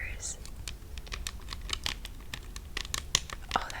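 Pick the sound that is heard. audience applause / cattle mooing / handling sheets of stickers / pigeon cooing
handling sheets of stickers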